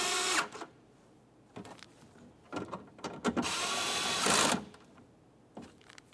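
A power tool snugs up the mounting bolts of a rear power window regulator on a 2006-2011 Honda Civic, with several short, close whirring and ratcheting bursts separated by quiet pauses.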